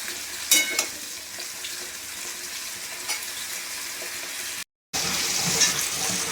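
Mixed vegetables frying in a pan with a steady, close sizzle and occasional stirring clatter, cut by a brief silent gap before the sizzling resumes.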